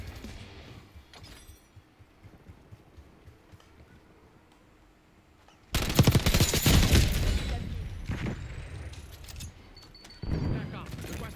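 Gunfire in Call of Duty Black Ops 6 hits in a loud sudden burst about halfway through after quieter ambience. A rapid volley rings out near and harsh, followed by another shorter burst at the end.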